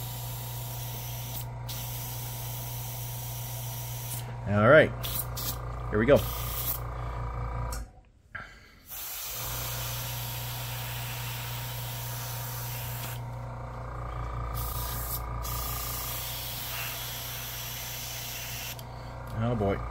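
An airbrush or spray gun hisses steadily as light gray paint goes onto a B-25J Mitchell scale model, the spray pausing briefly once, with someone talking over the continuous hiss.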